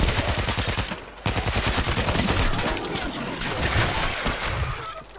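Loud gunfire from a World War Z match: repeated sharp shotgun-style blasts in quick succession, dense and continuous with a brief pause near the start, close and dominant with no talking over it.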